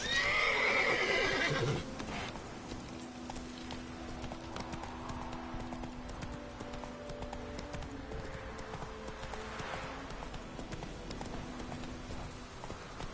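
A horse in The Witcher: Wild Hunt video game gallops with steady, rhythmic clip-clopping hooves, opening with a loud whinny and then carrying on at moderate volume for the rest of the stretch.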